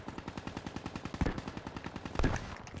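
Rapid automatic gunfire in the Black Ops 3 video game, a steady stream of evenly spaced shots with two louder bursts standing out partway through, no talking over it.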